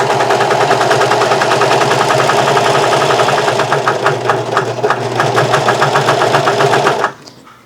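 A Vevor industrial serger sews and trims fabric for baby bloomers with a loud, fast, even mechanical whir and rapid stitching pulses, then stops abruptly near the end.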